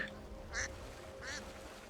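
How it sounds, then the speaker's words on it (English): A duck in Skyrim gives three short nasal quacks spaced about evenly apart, fairly soft over a low background hum. "Hello, duck."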